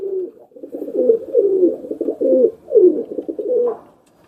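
Teddy pigeons coo in low, throaty, rolling phrases, one after another, close by with no other sounds around them.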